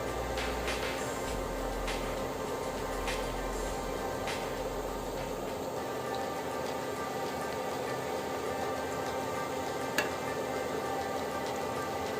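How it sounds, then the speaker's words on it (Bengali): Shami kebabs frying in a pan, a steady even sizzle of hot oil that runs unbroken throughout, with faint crackles and one small sharp pop near the end. "আমি একা একা এভাবে সবগুলা ভেজে নিচ্ছি"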